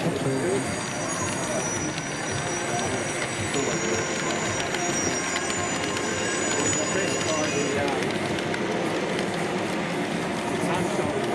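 A continuous, noisy rumble of a model train rolling on rails at a model railway exhibition, with steady clatter and faint high squealing tones throughout.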